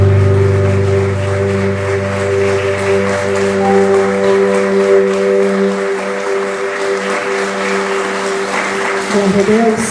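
Church congregation applauding loudly and continuously for about ten seconds, a dense wash of clapping over sustained keyboard chords, with voices mixed in.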